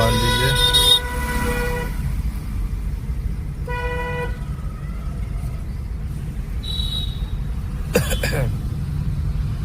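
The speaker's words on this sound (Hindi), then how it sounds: "हॉर्न दीजिए।" A car horn honks briefly from nearby over steady road and engine rumble, with a few other short tonal beeps around it.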